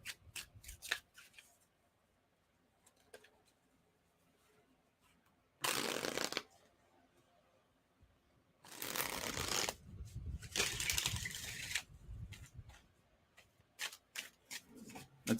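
Tarot cards being shuffled at a reading, with several bursts of riffling and shuffling between quieter stretches and sharp clicks of cards being tapped and set down, close and fairly soft.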